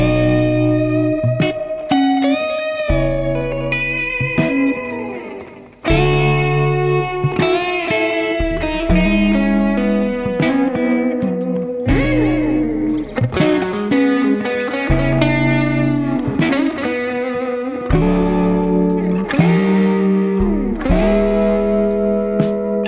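Clean electric guitar played straight into a Matchless Lightning reverb amp with extra reverb from a Line 6 HX Stomp, chords and melodic runs drenched in spacious reverb, steady and full throughout with a brief dip partway through.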